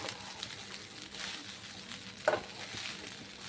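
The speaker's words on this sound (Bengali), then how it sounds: "খুব ভালো করে নাড়িয়ে চাড়িয়ে নেওয়ার পরে" Cooked rice for lemon rice is stirred in a pan over a faint, soft sizzle, with one short scraping stir standing out partway through.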